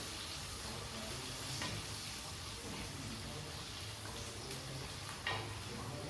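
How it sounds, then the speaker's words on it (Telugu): Onions fry in a clay pot and are stirred gently along the surface, giving a soft, steady sizzle with occasional scraping stirs, faint and close. "ఉల్లిపాయలు వేస్తున్నాయి."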